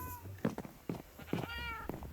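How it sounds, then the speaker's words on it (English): A cat meows in the Minecraft video game, several short tonal mews in quick succession over about two seconds, clear and fairly close against a quiet game background. "I found this old cat."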